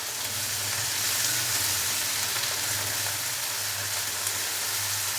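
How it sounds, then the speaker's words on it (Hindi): Ginger-garlic paste fries in a pot for chicken biryani, a constant close sizzle and crackle with a low hum underneath. "अदरक और लहसुन के पेस्ट को हल्का सा फ्राई कर लेंगे।"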